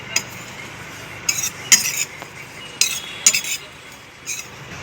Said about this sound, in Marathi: आता आपले खोबरे परतून झाले